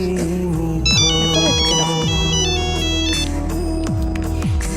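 A phone's electronic ringtone plays a bright, repeating melody for an incoming call, loud and near, over a dense musical backing.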